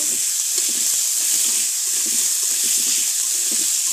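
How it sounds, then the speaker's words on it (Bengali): Food being sautéed with spices in a pan, giving a steady bright sizzle with soft clinks and stirring scrapes underneath, close and continuous. "মশলা দিয়ে একটু কষিয়ে নিচ্ছি"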